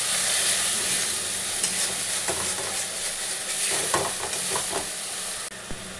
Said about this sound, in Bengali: এবারে এইটাকে দিয়ে ভালো করে কষিয়ে নেবো বন্ধুরা